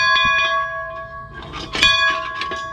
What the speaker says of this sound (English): It's an old church bell my dad gave me, and it's off balance because we just installed it.